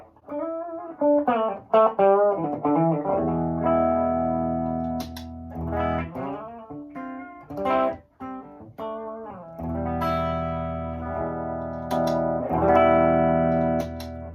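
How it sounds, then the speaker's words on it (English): Electric guitar through an amp with its tone stack bypassed, playing bright, clear chords and short riffs with pauses between phrases, loud and close. "this switch deactivates the tone stack, and so it just gets a little louder and it's a little more clear"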